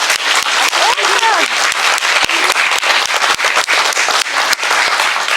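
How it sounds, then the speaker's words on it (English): Loud, close applause from the audience at an industry-council women's graduation ceremony, individual hand claps crisp and distinct within a steady crowd roar that continues throughout. "Can we give the girls one more round of applause"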